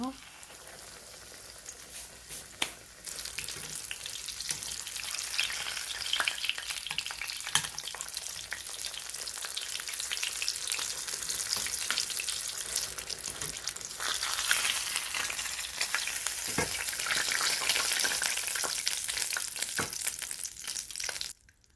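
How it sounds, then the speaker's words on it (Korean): Fish cutlets frying in a shallow layer of cooking oil, a dense, steady sizzle and crackle that holds loud and continuous throughout, with occasional sharper pops. "식용유 좀 적게 좀 자작하게 부어서 맛있게 튀겨봤습니다"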